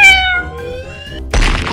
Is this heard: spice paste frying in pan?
no